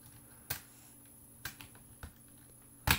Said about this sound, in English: if you've done it right, the keycap should just come off like that